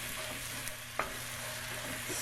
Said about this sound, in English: I'm just going to keep stirring this and continue breaking this up